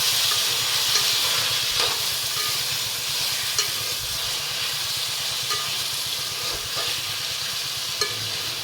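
Chopped tomato and green chilli are stirred into a frying pan for a jackfruit gravy, giving a constant loud hiss and sizzle with faint scraping underneath.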